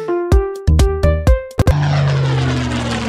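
A series of short, punchy tonal hits leads into a loud, sustained airplane engine drone that sweeps downward, played as a comic sound effect with no talk over it.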